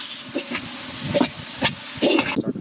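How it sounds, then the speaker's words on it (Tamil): Onions and tomatoes sautéing in a pan for country chicken biryani give a steady close hiss and sizzle, broken by several scraping stirs and bursts of spattering. "இந்த மாதிரி வதங்குற ஸ்டேஜில் தக்காளியை போட்டுடணும். தக்காளி போட்டுக்கிறோம்."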